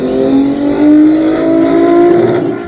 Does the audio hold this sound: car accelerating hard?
yes